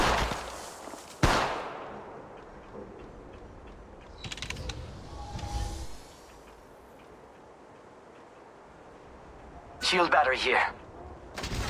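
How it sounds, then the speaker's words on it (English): Gunfire in the mobile shooter game Apex Legends Mobile comes as a sharp burst at the start, a rattling volley midway and another burst near the end. A game voice speaks briefly between the shots. "Taking fire! Another squad is attacking us!"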